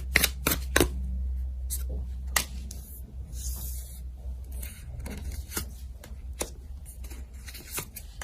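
Tarot cards shuffled by hand in a series of crisp flicks and riffles, some sharp snaps and softer sliding rubs, close and fairly quiet.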